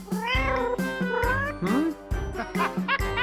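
A spoiled house cat meows repeatedly and loudly up close, a series of drawn-out rising and falling cries with short gaps between them.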